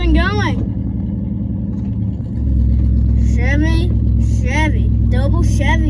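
A 1982 Chevy square body truck, parked in a field for years, runs and drives with a steady loud engine drone that swells partway through, while excited voices talk and cheer over it.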